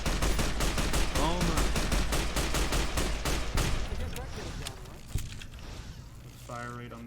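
Rapid single-fire gunshots from a modded weapon in Fallout: New Vegas, fired as fast as the trigger can be pulled, a dense loud volley that thins out partway through into scattered shots and game noise.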